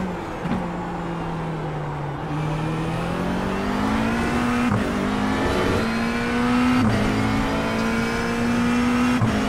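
McLaren 720S GT3 race car engine in the iRacing simulator, revving steadily and climbing through gears with brief shift dips, loud and continuous with no talk.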